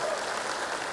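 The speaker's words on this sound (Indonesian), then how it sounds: "Kita berikan tepuk tangan kepada beliau." A brief, steady burst of crowd applause at a political gathering, moderately loud and continuous for about a second.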